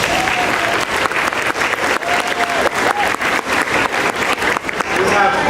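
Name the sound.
audience applause for students and staff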